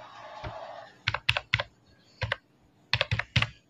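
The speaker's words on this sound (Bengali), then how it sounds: "ভোটার নাম্বার টাইপ করে দেওয়ার পরে" Keys clatter on a computer keyboard in quick clusters of taps separated by short pauses, close and fairly crisp.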